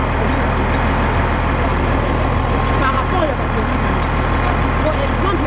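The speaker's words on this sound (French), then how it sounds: "nous avons toujours un tracteur" A tractor engine idles at a road construction site in Maluku, DR Congo, giving a steady, loud low rumble throughout while people talk over it.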